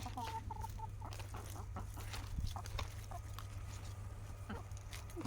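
Backyard chickens cluck and murmur softly while being fed leaves on a rural farm, with scattered short calls at a moderate distance over faint ambient hum and no clear talk.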